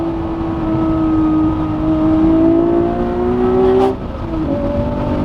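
A Honda NSX supercar's engine pulls hard under acceleration, its tone climbing steadily before a quick gear change drops the pitch and the revs build again, loud and close.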